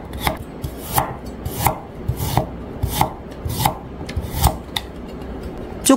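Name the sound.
knife slicing garlic and ginger on a cutting board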